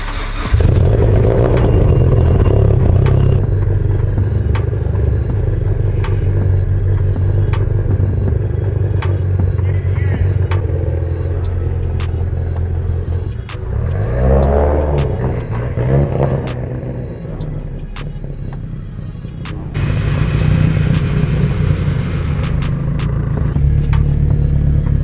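Two car engines rumble loudly close by as the cars are driven out, with a revving swell midway and a deep idle returning afterward.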